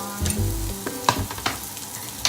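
Onions frying in a pan, a steady close sizzle with a few sharp spits and stirring scrapes, no voices.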